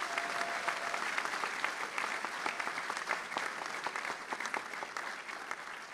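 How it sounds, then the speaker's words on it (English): Sustained audience applause at a university commencement ceremony, a broad, steady wash of many hands clapping at even loudness throughout, fairly distant in a large space. "let's give him a round of applause"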